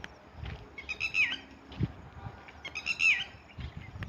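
A red-wattled lapwing's shrill call repeats twice, each a rising and falling cry, over faint outdoor rustle and a few low thumps.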